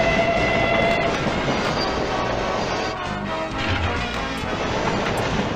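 A pinball video game plays a loud, continuous train sound effect: rumbling rail noise with clattering wheels and a brief horn-like tone near the start, filling the whole stretch with no talking.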